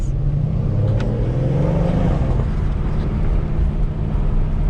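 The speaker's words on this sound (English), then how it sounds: "You can hear this turbo spool now." A Mercedes C63s AMG fitted with catless downpipes, its engine loud and close, with a rising turbo spool whine climbing over the deep rumble before settling into a steady drone.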